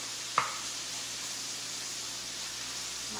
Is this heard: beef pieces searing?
yes